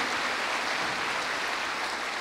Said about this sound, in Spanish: Démosle un fuerte aplauso a este hermano.